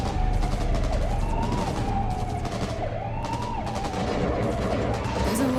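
Gunfire in the video game Cyberpunk 2077 as the police arrive: dense, loud bursts of shots that run without a break under a wailing siren and a steady game soundtrack.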